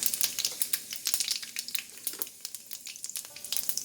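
Cumin seeds dropped into hot oil in a pan, a crackly sizzle with rapid popping bursts, close and lively, fading slightly toward the end.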